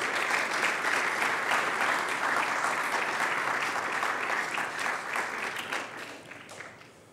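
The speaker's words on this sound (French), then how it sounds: "J'aimerais vraiment qu'on les applaudisse." Sustained applause from an audience at a speech honoring two guests, dense and even clapping that holds steady for several seconds and then fades out.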